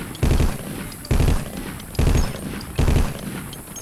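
An M60 machine gun in the Vietnam War shooter Vietcong fires four short, loud bursts at an even pace, with brief pauses between them.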